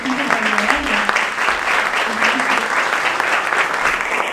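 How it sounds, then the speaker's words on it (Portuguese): A crowd at a Christmas event applauds the event team with sustained, loud clapping while a voice talks over the applause. "Uma salva de palmas, gente, para essa"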